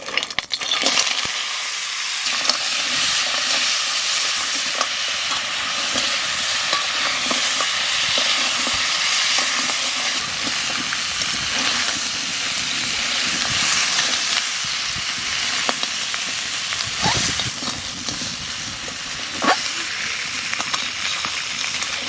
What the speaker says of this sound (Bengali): কাঁকড়া মাছ ভাজা হয়ে গেছে, এখানে নামাই দেবো।